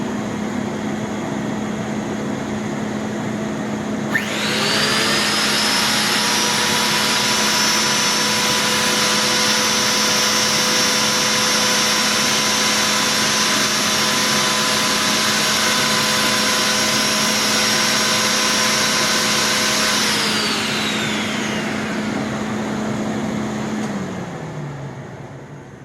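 A refurbished Rainbow PN2 power nozzle motor starts up with a sharp whine and holds a steady, loud, high-pitched hum before winding down near the end.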